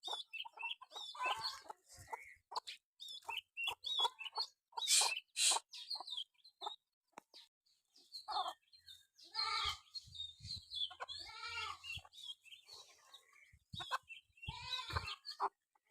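A mother hen clucks over her chicks in short, close, repeated bursts, with fainter chick peeps and a few louder calls, alone without speech.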